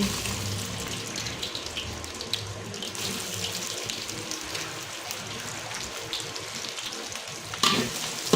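Chopped onion hits a hot pan and fries with a soft, steady sizzle, faint and close, mixed with a watery hiss and occasional clinks and scrapes; no one speaks.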